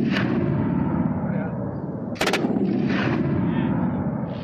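Gunfire from light and heavy weapons during military training rumbles in a dense, continuous volley with heavy booming reports and a sharp crack midway, loud and sustained.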